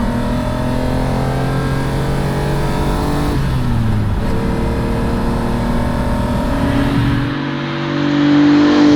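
A Lamborghini Countach's 5.2-liter V12 runs steadily with deep harmonic tones, its pitch dipping and rising briefly as it revs, loud and close throughout.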